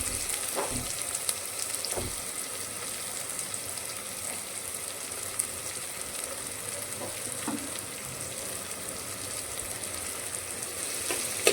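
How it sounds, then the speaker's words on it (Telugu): Chopped onions frying in hot oil for a tomato chana dal curry, a steady broadband sizzle with occasional stirring clicks and scrapes throughout, close and fairly loud, with no talk. "ఇప్పుడు నూనె వేడయిందండి. ఇందులో 2 ఉల్లిపాయ గడ్డలు కట్ చేసి పెట్టుకున్నాను."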